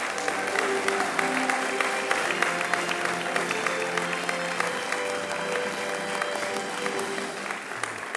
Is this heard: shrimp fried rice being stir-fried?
no